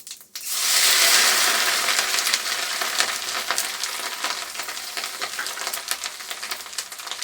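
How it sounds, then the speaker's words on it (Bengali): Fennel seeds and grated coconut drop into hot oil for Bengali shukto, bursting into a loud, dense sizzle that eases slightly and then continues with crackling pops and spoon scrapes. "আমি একটু মৌরি ফোড়ন দিয়ে দেবো দিয়ে এই নারকেল কুচিটা দিয়ে দেবো"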